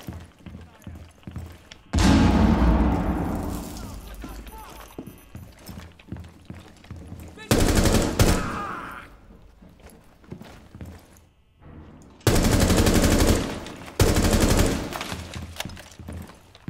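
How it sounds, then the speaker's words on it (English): Grenade blasts and bursts of gunfire in GTA 5 roleplay gameplay: three loud booming explosions arrive at intervals, each followed by a decaying rumble, with scattered rapid shots between and a voice talking in places. "Hey, have a nade then."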